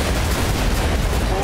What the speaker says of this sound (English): we're taking so much fire right now